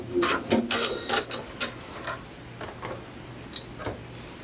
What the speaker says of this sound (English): I'm just going to run a row of stay stitching 1/4 inch from the top.